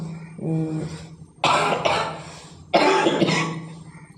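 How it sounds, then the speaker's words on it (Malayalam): After a short hum, a person coughs in two harsh, rasping fits, each a cluster of close, loud coughs. "കുറച്ചേരം ഒന്ന് സംസാരിച്ചാൽ മതി അപ്പൊക്കെ ചുമ വരും"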